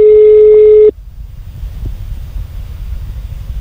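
A phone ringback tone heard through TWS earbuds with active noise cancelling and boosted bass: one steady, buzzy tone held for under a second, then cut off abruptly into faint background hiss.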